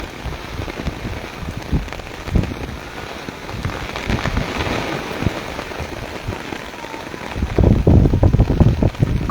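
Torrential rain in Taunsa Sharif pours down in a dense, continuous roar of drops hitting surfaces, growing heavier and louder toward the end, with no voices.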